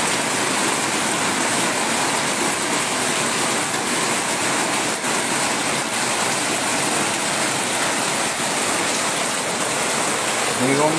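Torrential rain lashes down at Berachapa in Deganga, a loud unbroken roar of pouring water that stays dense and even throughout.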